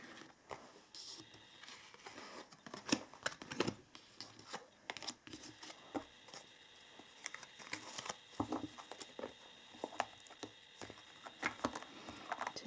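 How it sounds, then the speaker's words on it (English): Tarot cards being gathered and handled after a pick-a-card reading with charms, giving soft scattered rustles, shuffles and taps that come in irregular bursts, close and quiet, with no talking. "we are removing some of these cards here"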